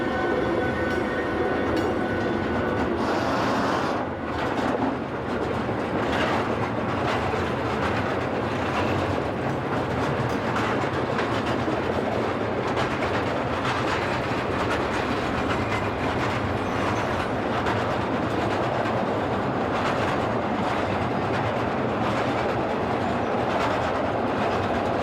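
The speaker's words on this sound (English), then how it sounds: "The other new locomotive, number D13, is seen shortly after leaving the works at Fugenhardt." Locomotive D13 hauls a freight train just out of the works at Fugenhardt, a steady close rumble of wheels and wagons with faint clickety-clack running unbroken throughout, with no voices.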